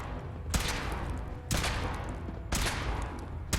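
Weapon fire during a test in the Fallout 4 video game, three loud, evenly spaced sharp blasts about a second apart, each trailing into a sustained rumbling roar over steady background noise.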